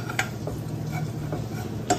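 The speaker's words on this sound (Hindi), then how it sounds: "हम थोड़ा सा ओट्स को रोस्ट कर लेंगे, एक हल्का ब्राउन कलर आ जाए तब तक इसको हम ओट्स को भूनेंगे" Oats dry-roasting in a pan as a spoon stirs them, with a few soft scrapes against the pan over a low, steady background and no voices.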